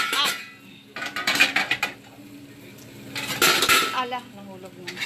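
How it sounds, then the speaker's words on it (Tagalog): Pots and pans clatter and clank in a home kitchen while dried fish is fried, in several close, loud bursts of metallic knocking separated by short pauses. "Ang daming kaldero dito"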